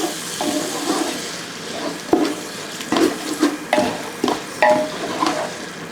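Chicken biryani gravy with chopped coriander and mint being stirred in a pot, with spoon scrapes and knocks in an irregular rhythm over a soft sizzle, close and moderately loud.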